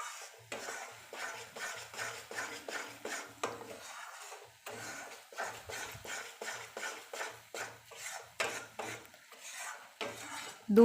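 Roasted wheat flour sukhadi mixture with a little milk stirred in a pan, a steady rhythm of close scraping strokes of a spoon against the pan bottom, repeating about once per second, with faint sizzling underneath.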